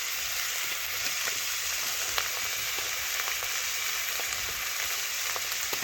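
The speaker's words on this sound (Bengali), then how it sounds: "এখন সব কিছু একসাথে ভালোভাবে মশলার সাথে দেখুন কষে নিচ্ছি।" Spices with turmeric and Kashmiri chilli powder frying in oil, a steady even hiss of sizzling with faint crackles throughout, moderately quiet and without talk.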